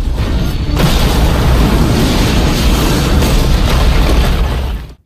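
Bomb explosion sound effect: a massive, loud blast that swells within the first second and rumbles on as a dense roar for several seconds before cutting off abruptly.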